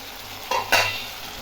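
Potatoes being stir-fried with spices in a pan, a soft sizzle with a couple of brief louder scraping stirs, close and steady, no talking.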